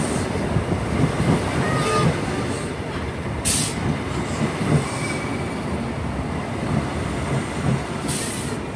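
An HST train with power car 43198 at the front passes close by, a steady heavy rumble of wheels on rail with occasional high squeals and clicks throughout, no voices.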